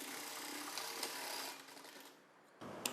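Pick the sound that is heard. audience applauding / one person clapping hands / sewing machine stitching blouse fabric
sewing machine stitching blouse fabric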